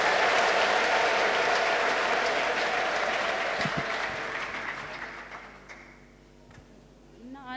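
A church congregation claps in praise of the Lord at a prophet's service. The dense applause fills the room, then thins out and fades to near quiet before a few stray claps return.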